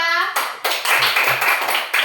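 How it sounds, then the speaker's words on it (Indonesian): A short burst of clapping from a small group, uneven and fairly close, with a few sharp slaps standing out. "Tepuk tangan dulu buat kelompok 2."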